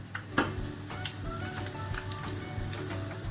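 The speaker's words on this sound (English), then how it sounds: "You can see the onions is frying." A soft, steady sizzle of onions frying in hot oil, with a few faint crackles and pops scattered through it.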